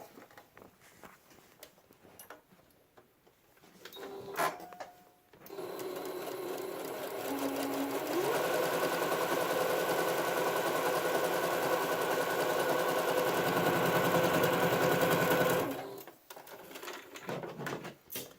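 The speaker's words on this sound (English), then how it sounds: "And then what you're going to do is you're going to sew it." Sewing machine stitching a fabric mask with black thread, a steady fast mechanical whir running about ten seconds after some quiet handling clicks, then stopping abruptly.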